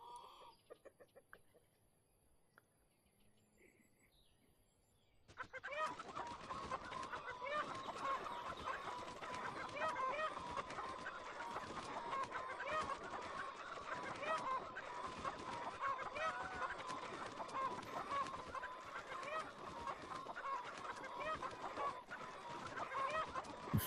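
Chickens in the VR farming game Everdream Valley cluck and squawk busily after a quiet start, a flock of birds pecking and chattering continuously at close range with steady rhythmic clucks.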